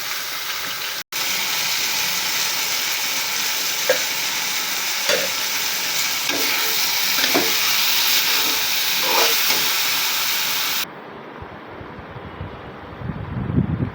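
Eggplant frying in oil with turmeric and salt, a loud steady sizzle with occasional stirring scrapes and clicks, running continuously before dropping away abruptly near the end.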